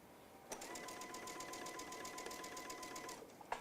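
A sewing machine runs a straight stitch along the edge of fabric for a fabric basket, a steady, even mechanical rattle heard close and alone at low volume.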